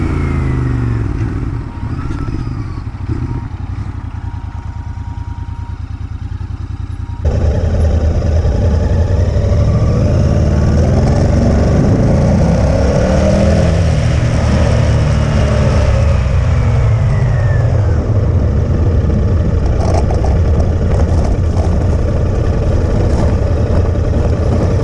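A Royal Enfield Interceptor 650 motorcycle idles with a low, steady thrum, then a sudden jump to a louder, sustained revving engine that rises and falls while the bike turns around, close and alone.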